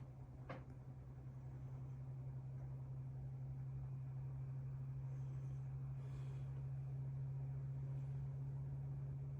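The hard disk drive inside a Lenovo ThinkCentre PC spins with a faint, steady low hum that holds constant and unbroken throughout.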